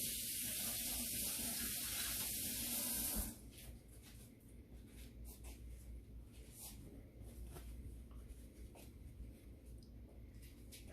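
Kitchen tap running as a hand is rinsed under it, a hissing water stream for about three seconds that then stops, leaving quiet small handling sounds.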